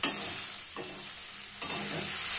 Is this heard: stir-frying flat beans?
yes